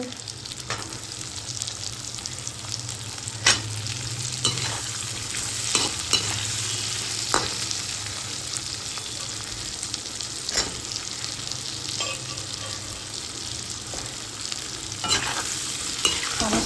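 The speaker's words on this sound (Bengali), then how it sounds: "পেঁয়াজটা মোটামুটি ভাজা ভাজা হয়ে গেছে এবার এর মধ্যে আমি দিয়ে দিচ্ছি সমস্ত সবজি" Ridge gourd, Malabar spinach, pumpkin, eggplant and potato stir-fry with onions in a hot pan, a steady sizzle broken by repeated scraping stirs of the spatula, close and continuous without any voices.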